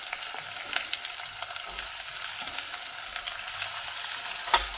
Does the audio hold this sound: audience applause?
no